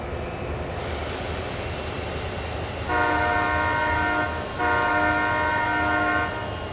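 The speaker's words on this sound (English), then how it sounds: "Two honks, let everybody know we're moving." A locomotive horn in the Train Sim World 5 rail simulator sounds two long, loud harmonic blasts separated by a short gap, over a constant low engine rumble in a rail yard.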